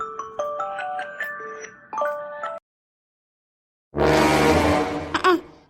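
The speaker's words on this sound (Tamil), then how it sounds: "எனக்கு ஆஃபீஸ் கால் வருது" A phone rings with an incoming office call: a bright electronic melodic ringtone plays in two bursts, stops, then a louder noisy stretch follows, close and prominent.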